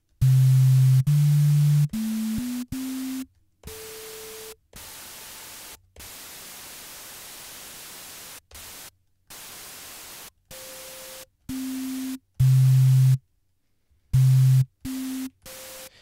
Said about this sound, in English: we can see that the white noise isn't changing